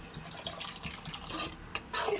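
Water poured into a pan for egg semiya, a close splashing, trickling stream with bubbly gurgles and a few brief spikes, no voices.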